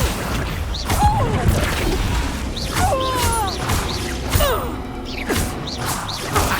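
Confringo spell blasts in Hogwarts Legacy, several loud crashing impacts with whooshing, swishing streaks over a steady busy rumble, repeating roughly every second or so.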